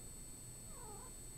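A single faint, drawn-out cat meow rising and falling over a low hum, quiet and somewhat distant indoors.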